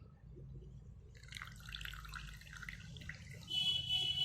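Water trickles and drips as a hand squeezes out leaves soaked for half an hour to make a mosquito repellent. The splashing is faint and close, rising slightly toward the end.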